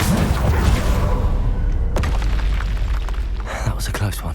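Incendio fire spell bursts in Hogwarts Legacy, booming explosive blasts and crackling pops layered over busy game sounds, with a loud impact around the middle and scattered bursts after.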